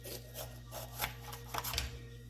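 Knife slicing sideways through a bell pepper on a cutting board, a short series of faint, scratchy rasping strokes with a sharper knock at the end, no voices.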